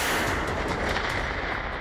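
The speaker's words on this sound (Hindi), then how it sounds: "ये वो धमाका है जिसकी आवाज पूरे यूरोप ने सुनी।" A wartime explosion or artillery blast roars in a dense, sustained rumble with no distinct individual hits, loud and heavy throughout with no voices.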